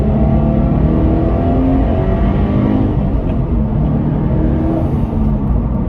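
A manual 2018 Toyota GT86 accelerates, its engine note rising steadily as a continuous, loud in-cabin drone with no talk over it.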